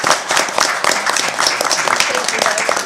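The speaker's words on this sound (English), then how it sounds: "I would like to personally stand up and give her an applause." Council meeting attendees in Poquoson clap for a departing member, brief dense applause mixed with overlapping voices close by.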